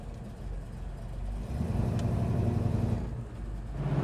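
A 1973 Plymouth Satellite Sebring Plus engine drives with a steady low rumble that swells and revs up midway, then settles. It is close and continuous, with no talk.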